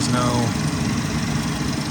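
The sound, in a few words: 2017 Ford Focus 1.6 liter engine running at temperature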